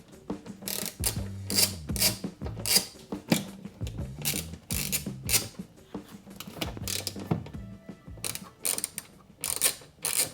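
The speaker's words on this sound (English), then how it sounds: "Remove 4 bumper screws using a Torx 27 bit." A ratcheting driver with a Torx 27 bit unscrewing four bumper screws on a 2017 BMW i3, clicking in repeated quick ratchet bursts with short pauses between them, close and fairly quiet.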